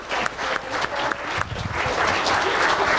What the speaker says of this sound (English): Let's go ahead and give these 8th grade graduates a round of applause for their accomplishments.